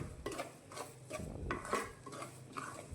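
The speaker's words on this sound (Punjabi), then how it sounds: "ਮੈਨੂੰ ਲਗਾਤਾਰ ਇਦਾਂ ਹਿਲਾਉਂਦੇ ਹੋਏ 5 ਮਿੰਟ ਹੋ ਚੁੱਕੇ ਨੇ" A spoon scrapes and stirs gram flour and semolina roasting in ghee in a pan, a steady rhythmic scraping with soft sizzling, close and continuous without speech.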